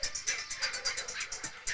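A dog whimpers in a rapid series of short, high, nasal whines, about a dozen in quick rhythm, close and moderately loud.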